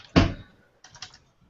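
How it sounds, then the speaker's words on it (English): A computer keyboard is struck in a few quick bursts: one firm thunk of keys, a pause, then a short cluster of lighter taps, close and fairly quiet with no talking. "So Jets are up, so Jumbo is typing, I guess."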